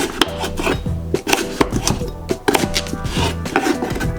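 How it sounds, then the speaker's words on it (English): A knife chopping sweet potatoes into squares on a cutting board, a quick irregular series of close, crisp taps and thuds with no talking. "and then chop them up into squares"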